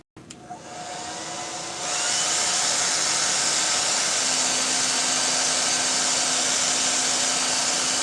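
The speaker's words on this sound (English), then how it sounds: "Hair dryer time." A hair dryer blows steadily and loudly, its whooshing roar rising in strength after a couple of seconds and then holding constant.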